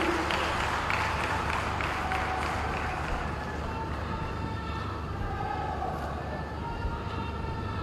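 An audience at the Goa foundation-stone ceremony for the National Forensic Science University applauds Chief Minister Pramod Sawant, a steady wash of clapping from a large crowd, loud and sustained, with talk over it.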